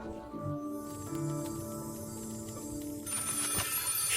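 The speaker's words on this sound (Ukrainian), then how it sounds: "Хтось дзвонить до нас, чи що?" A telephone rings with a repeating electronic ringtone, moderately loud and steady, growing brighter near the end.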